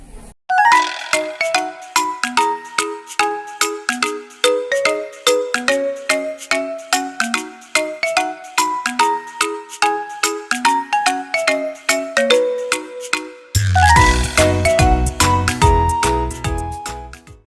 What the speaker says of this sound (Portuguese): Ative o sininho.